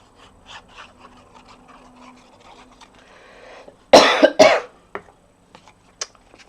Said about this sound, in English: I seem to have developed a cough from somewhere